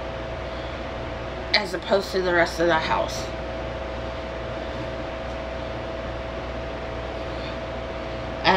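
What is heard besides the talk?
electric fans running in a hot room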